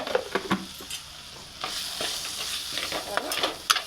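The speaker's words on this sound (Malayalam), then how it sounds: "മല്ലിയും മുളകും വറുത്ത മുളകാണ്, അപ്പോൾ അത് ഇട്ടെടുക്കുകയാണ്" Coriander and dried red chili frying in a pan while being stirred for a sardine chili curry, with close sizzling and repeated scraping stir strokes throughout.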